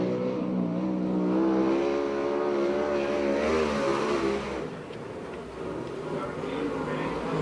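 A USAC/CRA sprint car running a qualifying lap at Perris, California, roars with a rising and falling engine pitch as it circles the track, fading toward the end beneath steady announcer commentary.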